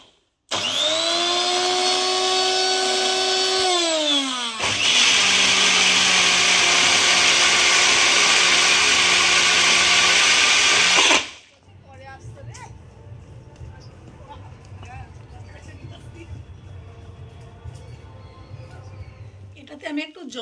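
An electric grinder blends fried prawns with water and mustard oil into a Bangladeshi bhorta paste. The motor whirs loudly, changes pitch partway, then cuts out, leaving faint kitchen sounds and a low voice.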